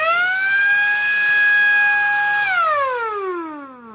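A WiFi-controlled school bell sounds a loud electronic siren-like tone that holds steady for about two and a half seconds, then glides downward in pitch as it winds off.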